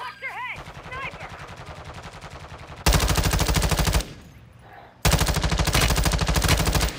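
Rapid automatic gunfire in Call of Duty: Modern Warfare II rattles in long, loud, close bursts, with a brief pause between them and faint game sounds and a voice before the first burst.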